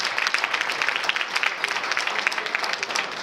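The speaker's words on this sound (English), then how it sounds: "Please give yourself a big round of applause." Audience applause at a leadership retreat in Weehawken, New Jersey, with more than 75 people clapping in person: a dense, steady wash of hand claps with no pauses across the whole stretch.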